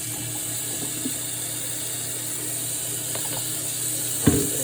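Potatoes being rinsed in a strainer under running water, a steady, close tap stream with a faint clatter and a brief knock near the end.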